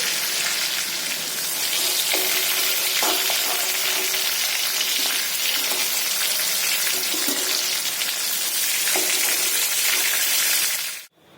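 Chicken pieces frying in hot oil in a kadai give a loud, steady sizzle that holds evenly for about eleven seconds with faint clinks underneath, then cuts off abruptly.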